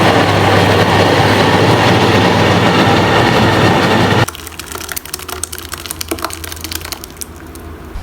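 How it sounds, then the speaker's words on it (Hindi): An electric mixer grinder blends onion, green chili, garlic, ginger, tomato and a little water with a loud, steady whirring roar, then stops abruptly midway, leaving faint clicks and handling noises. "और अब हम इसे ग्राइंड करेंगे अच्छी तरह से।"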